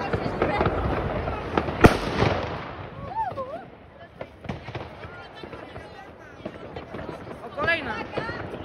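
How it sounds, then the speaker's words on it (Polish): A New Year's Eve firecracker goes off with one sharp, loud bang amid a night of fireworks in Kędzierzyn-Koźle, Poland, followed by distant crackling blasts and whistling rockets, with people talking and shouting nearby. "Petarda."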